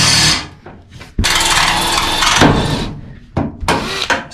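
Drill bit grinding through a small metal bolt while fitting out a VW Crafter van, a harsh, loud rasping whine in bursts with brief pauses between, close up.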